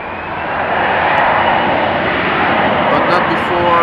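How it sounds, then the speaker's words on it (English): An Etihad Cargo Boeing 777 taxies at Amsterdam Schiphol toward runway 18 left, its engines giving a loud, steady roar that builds slightly, with wind noise and a voice talking over it. "this Etihad Cargo 777 is definitely taxiing towards the runway threshold of 18 left for a southbound departure."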